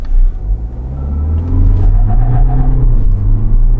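A car launching hard from standstill in a 0–100 km/h acceleration run, its engine rumbling loud and close with a rising low drone as it pulls through the gear, no voices.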